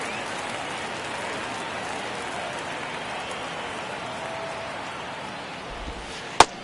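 Baseball crowd in the 9th inning of a one-run game, a steady broad roar of cheering spectators filling the stadium throughout, with one sharp close crack near the end.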